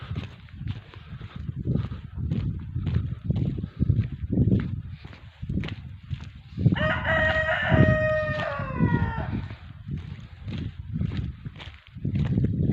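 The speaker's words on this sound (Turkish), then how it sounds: "Horoz Bey çok sinirli ve agresif bir şekilde ötüyor." A rooster lets out one long, loud, strained, aggressive crow close by in a village, surrounded by scuffling, footsteps and low rustling noise.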